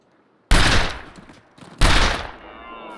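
Two loud rifle shots from The Long Dark survival game, each a sharp blast trailing into a long rolling echo across open wilderness, the second about a second after the first, with no talk.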